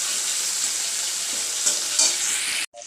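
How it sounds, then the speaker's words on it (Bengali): Shrimp fry in a pan with a loud, steady hiss of sizzling oil and a couple of brief stirring swells. The sound cuts off abruptly near the end. "সে চিংড়ি মাছগুলো একটু ভেজে নিই, তারপরে লঙ্কাগুলোও দেব।"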